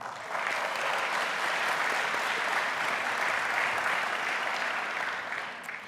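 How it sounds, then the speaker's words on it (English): Sustained applause from a large conference audience at a morning climate plenary in Aspen, steady and full from start to finish, with no speech over it. "let's take a moment to applaud the women in your life who are working to create a better planet every day."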